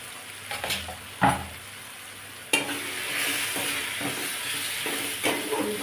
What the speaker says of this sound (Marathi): तेल फुटेपर्यंत आपल्याला परतून घ्यायचं